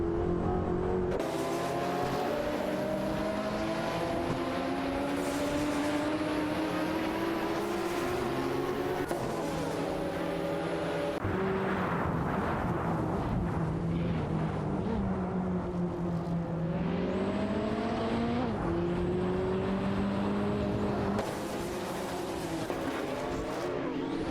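Several race cars, among them an Audi 90 Quattro IMSA GTO, roar through a racing video game, their engines droning and shifting pitch continuously, with tire squeals and skids now and then, loud and steady.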